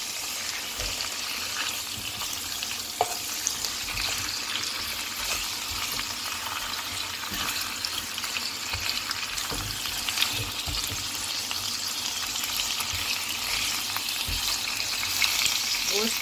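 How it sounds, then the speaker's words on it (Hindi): Bone-in mutton pieces fry with garlic paste in a pot over a medium flame, giving a dense, continuous sizzle with occasional knocks and scrapes of stirring, heard close for a long stretch. "गोश्त को जो है हल्का सा फ्राई करेंगे, इतना कि इसका कलर जो है चेंज हो जाना चाहिए।"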